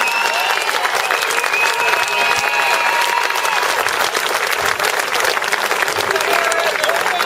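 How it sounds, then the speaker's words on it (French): Sustained, loud applause from an audience at a French agility team presentation, dense clapping filling the whole stretch with a few voices and cheers faintly mixed in. "On peut applaudir Victor sur un résultat miracle cette année."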